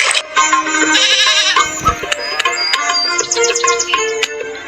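Goats bleat over and over at close range in a video game, their calls overlapping with high chirpy tones and a dull thump partway through.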